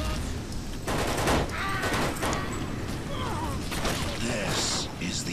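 Gunfire from a fairly weak gun in the first-person shooter NecroVisioN, with repeated loud bursts of shots and mechanical clatter in quick succession over busy game noise.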